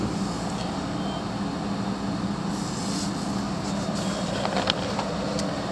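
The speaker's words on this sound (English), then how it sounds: "Engine is following up on a dead slow ahead movement." A ship's port and starboard main engines run at dead slow ahead, a faint, steady low drone with light mechanical clatter and a few soft ticks, heard without talk.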